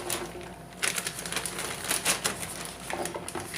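Fresh green chillies go into a plastic zip lock bag with crisp plastic crinkling and light tapping. The sounds are close and come in short clustered bursts over a steady background hiss, with no talking.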